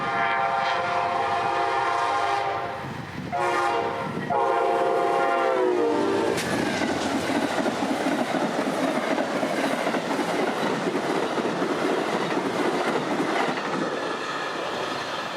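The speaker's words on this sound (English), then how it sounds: "Amtrak 91 would be up first, cruising by Orient Road just a couple minutes late out of Tampa today." An Amtrak passenger train led by a P42 diesel locomotive blasts its horn in long loud blows, then thunders past with steady rolling wheel rumble and clatter close by.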